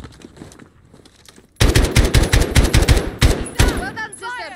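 Rapid automatic gunfire from the video game Call of Duty: Modern Warfare bursts in after a quiet stretch, dense loud volleys with short gaps, ending in ringing metallic echoes.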